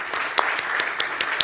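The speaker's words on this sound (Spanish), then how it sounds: "yo creo que se merecen un aplauso estos señores y señoras." Brief applause for a panel of experts at an RPA summit, fairly faint scattered claps with a few sharper hand strikes standing out.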